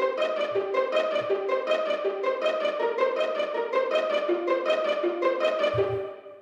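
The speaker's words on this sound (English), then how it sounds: "I layered those strings with these other strings from the BBC Orchestra" Pizzicato violins layered with string sections from Spitfire Audio's BBC Orchestra library play a bouncy, evenly plucked pattern of short repeated notes, close and clear, with a couple of low notes underneath, then fading at the end.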